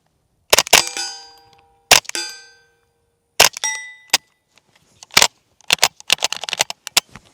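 Suppressed .22 rifle fired with a Dead Air Mask 22 and the bolt held closed: several sharp, close cracks with metallic ringing tails, spaced apart, then a rapid cluster of smaller clicks and impacts near the end.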